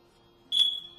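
A single shrill, piercing electronic beep from a carbon monoxide detector test button starts suddenly and holds, loud and close, after a moment of near silence.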